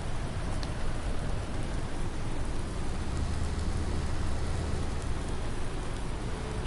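Steady, dense rainfall in the farming game Farming Simulator 19, a constant hiss of drops on surfaces that fills the whole stretch evenly, with no voices over it.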